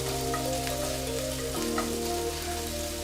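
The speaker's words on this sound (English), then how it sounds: "So we've started with a hot pan. There we are, look, they're just eating away there. Getting hot. The garlic is obviously infusing with the oil." Onions and garlic fry in oil in a hot pan, producing an even, close sizzle like steady rain that carries on without a break and without talk.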